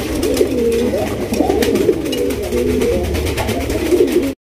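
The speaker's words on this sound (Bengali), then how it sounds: "দেখতেই পাচ্ছেন ডাকের রাজা রাজগোল্লা মাশাআল্লাহ, কি পরিমাণ ডাকতেছে দেখছেন?" Several Rajgolla fancy racer pigeons, one a mili-coloured bird, coo loudly and continuously close by, deep rolling calls overlapping with no pauses and no talk.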